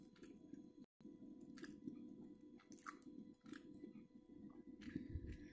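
Crisp crunching and chewing of a Britannia Good Day butter cookie, close and quiet, with continuous bites and mastication for several seconds.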